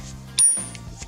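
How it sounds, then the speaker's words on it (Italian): A socket wrench tightening the plastic oil filter cap on a Peugeot 207 1.6 HDi gives a single sharp metallic click that rings briefly over a low background hum, close to the mic. "procediamo ad avvitare con la bussola, perché essendo una filettatura di plastica si può combinare"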